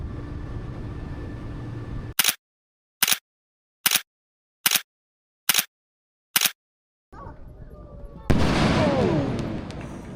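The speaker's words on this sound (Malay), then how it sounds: "Waktu ni Port Oli pasang bunga api." Fireworks at Port Oli in Kuala Terengganu: six sharp, evenly spaced bangs separated by silence, followed by a louder, sustained burst of crackling and booming.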